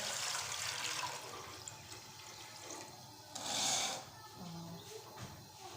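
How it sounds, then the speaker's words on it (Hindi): Water poured from a jug into a pot for soaking rice while making kheer, a brief gushing splash rising in the middle, heard in a quiet kitchen. "पहले मैं डालूँगी चावल गिलाने के लिए पानी"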